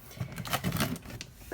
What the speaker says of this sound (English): I'm just going to open this up, so excuse the noise.